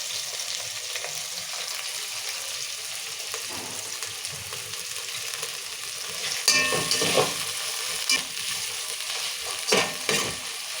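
Curry leaves, coriander and mint frying for bagara rice hiss and sizzle steadily in a pan, with a few louder scraping stirs partway through.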